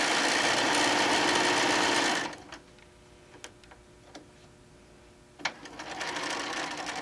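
A sewing machine with a dual feed foot stitches through fabric and fusible fleece in a steady, loud close whir for about two seconds, then stops, leaving faint clicks and handling noises before the motor runs again.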